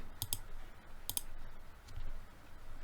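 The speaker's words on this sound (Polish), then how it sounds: "Klikamy myszką i zobacz, podłączamy tabelę pierwszą." Computer mouse clicking during spreadsheet work: a few faint, sharp clicks spaced apart, some in quick pairs, close but quiet over low room hiss.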